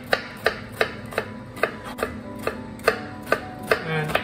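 A knife chops an onion into thin slices for a wok stir fry, about eleven crisp, evenly spaced taps on a cutting board, close and clear with no talking.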